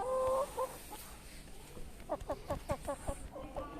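Chickens cluck in quick bursts nearby, a short run of rhythmic clucks over faint background noise.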